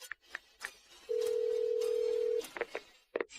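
Telephone call ringing through, a short dial tone of steady beeps followed by a long continuous ringback tone, with brief clicks and faint voices around it.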